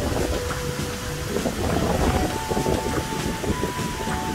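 Strong wind blows steadily at the Casca Danta waterfall in Serra da Canastra, a loud continuous roar buffeting the microphone with rushing water beneath it, with no talk.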